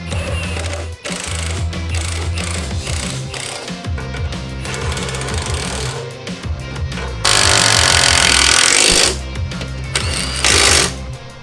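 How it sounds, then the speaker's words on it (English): An impact wrench or power tool drives subframe bolts back into a Ford Mustang GT S550, loud rattling bursts with a steady low hum underneath, including one long sustained run near the end, close up and without talk. "You're gonna reinstall the bolts that lowered the subframe."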